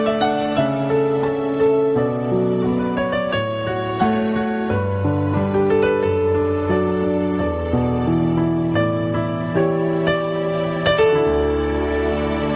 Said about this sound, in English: let's add some amazing strings.